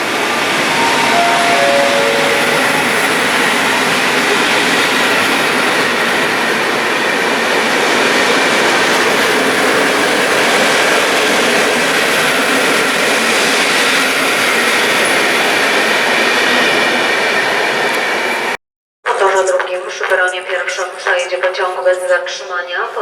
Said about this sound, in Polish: przy peronie pierwszym przejdzie pociąg bez zatrzymania